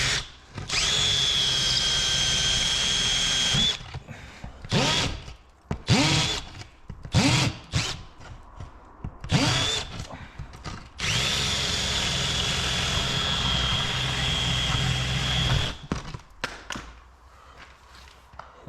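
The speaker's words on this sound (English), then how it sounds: "What do you guys do for drilling or cutting concrete board?" A power drill bores into concrete board on a barrel stove build, with long loud close whining runs broken up by short bursts, stops and handling knocks in between.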